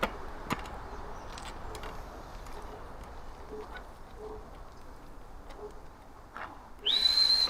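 After several seconds of faint room noise and scattered knocks, a sharp, shrill coach's whistle blast starts suddenly near the end and holds steady.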